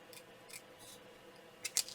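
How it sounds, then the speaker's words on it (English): Scissors snipping paper for a craft gift card tag, a few faint, quick cuts spaced through the moment with a slightly louder double snip near the end, close but quiet. "if you move your piece of paper rather than moving your scissors, you'll find it much quicker"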